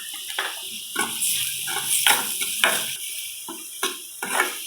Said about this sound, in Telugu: బాగా ఫ్రై చేసుకోవాలి.